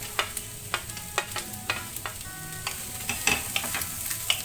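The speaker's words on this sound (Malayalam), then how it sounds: "സവാളയും അതുപോലെ തന്നെ എണ്ണയിൽ ജസ്റ്റ് ഒന്ന് വഴറ്റിയെടുത്താൽ മതി" Onion sautés in oil in a pan, with steady sizzling close by and regular sharp spatula taps and scrapes against the pan, no voices.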